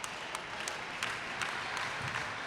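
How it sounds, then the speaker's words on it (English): Spectators at a women's college volleyball match between HU and the University of Saint Francis clap and cheer in a dense, steady burst of applause lasting a few seconds, with no talking. "Crowd's getting pumped up for this one"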